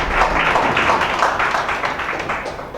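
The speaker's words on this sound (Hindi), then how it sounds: "अपने तालियों की ध्वनि, जोरदार ध्वनि गुंजायमान करेंगे।" An audience applauding together at a talk, a dense, steady wash of clapping close by that carries on for about three seconds without voices.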